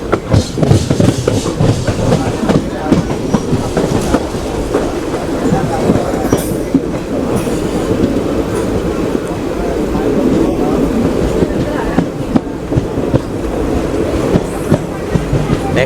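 The Mannargudi to Tirupati Pamani express running on a single line, heard from on board as a loud, steady rumble with rhythmic wheel clatter throughout, a few faint voices mixed in.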